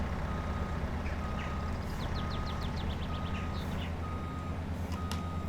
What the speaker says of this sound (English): I'll keep reversing and see if we can get out.